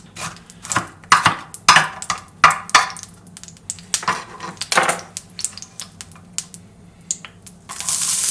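A knife chops onions on a board for a pasta dish, with a run of sharp close knocks at an irregular rhythm that thin out later, followed by a brief hiss.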